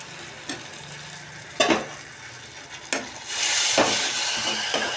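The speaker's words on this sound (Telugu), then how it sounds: "చూడండి గ్రేవీ బాగా ఉడికేస్తుంది" Mushroom masala gravy with tomato cooks in a pan, giving a steady low sizzle broken by a few sharp stirring scrapes, with a louder burst of frying toward the end.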